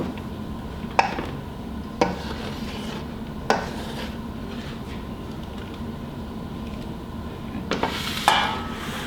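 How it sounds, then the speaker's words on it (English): A rubber spatula scrapes banana bread batter from a bowl into a muffin pan, giving a few sharp clinks and scrapes spaced over a steady low kitchen hum, with no talk. "Rubber spatula comes in handy at the end so we can get all our batter together to get our 9th muffin."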